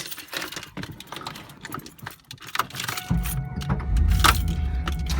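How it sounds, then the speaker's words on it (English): Keys jangle and clatter, then the V8 engine of a 1996 Pontiac Firebird Formula LT1 catches and settles into a deep, loud rumbling idle. "you hear that big V8 fires right to life"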